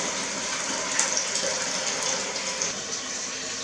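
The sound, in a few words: water from sink filling buckets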